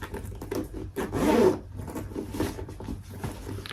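Small zippers running down the sides of an expandable peach-colored Harriet bag being pulled open, a close, quiet rasping zip with a louder pull in the middle and lighter rubbing around it.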